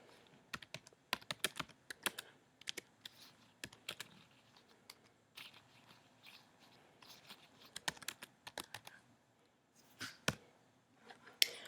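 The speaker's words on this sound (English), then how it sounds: "I'm going to hit enter, and I'm going to type in my notes." Notes being typed on a computer keyboard, a quiet run of irregular key clicks and taps with occasional louder strokes, close and alone without talk.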